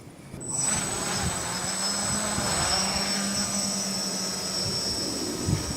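A quadcopter drone lifting off on a test flight, its propellers starting with a sudden high, steady whine that holds loud and close, with a fainter buzzing tone wavering underneath.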